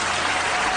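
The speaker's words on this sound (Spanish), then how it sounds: "Aplausos, sí." Applause greets a guest on a talk program, a brief, dense wash of clapping that holds evenly for under a second without any voices.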